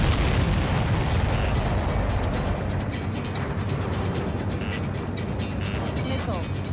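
Missile launch in the Ace Combat flight game: a loud, sustained roaring boom with dense low rumble that fills the whole stretch, with radio-style voices talking over it.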